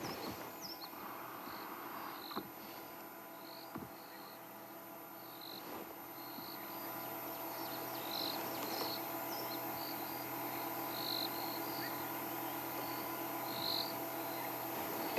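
An occasional cricket chirps at dawn on an African safari hillside, faint and intermittent within a soft chorus of distant birdsong over a steady outdoor background.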